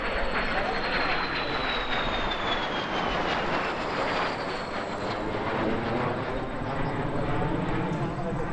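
Silver Star warbird jets, a restored pair including one in black, roar loudly overhead at an airshow, a dense continuous jet rush with a sliding whine as they pass.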